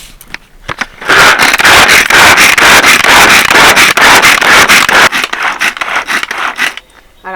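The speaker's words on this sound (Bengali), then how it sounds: "প্রথমে দিয়ে দিলাম গাজর কিছুটা আদা কাঁচা লঙ্কা পেঁয়াজ আর বাঁধাকপিটাকে আলাদাভাবেই চপারে চপ করে নেব" A manual pull-cord vegetable chopper whirs and clatters through carrot, ginger, green chili and onion, a loud rapid rasping burst of repeated strokes for several seconds, then slowing and stopping.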